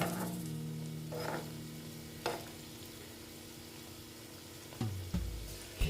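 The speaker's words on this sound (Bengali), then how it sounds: "এটা খুব আস্তে আস্তে ভাজতে হবে" A flattened rice (chira) snack fries slowly in a pan with a soft, steady sizzle and a few gentle stirring scrapes and taps, close and fairly quiet, with no talk.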